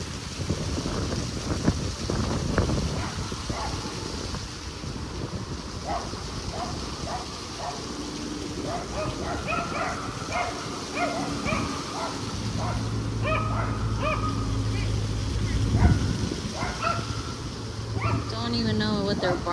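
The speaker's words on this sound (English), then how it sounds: "They're just barking and going crazy." Several dogs barking repeatedly at a distance amid gusty wind noise on the microphone, with an engine or boat hum joining in the latter half; sharp yips scattered throughout.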